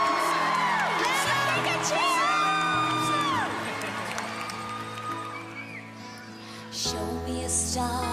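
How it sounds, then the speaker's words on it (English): A Christmas show audience cheers for Santa, with high whoops and excited children's shouts over music, loudest at the start and easing off before a final swell. "Give him a cheer!"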